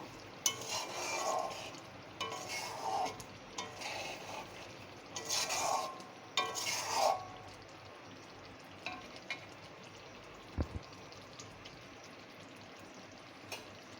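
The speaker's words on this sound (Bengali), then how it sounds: "এখন এটা একটু নেড়ে নেব" A soybean and flour dish frying in oil while being stirred, with bursts of spoon scraping and sizzle in the first half, then a quieter low hiss with a few soft knocks against the pan.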